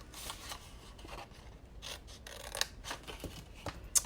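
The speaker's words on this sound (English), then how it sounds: "I'm going to cut up to that 1-inch line on the rest of them" Scissors snipping through card stock during a papercraft card and small bag project, a series of close, crisp cuts with brief pauses between strokes, no voices.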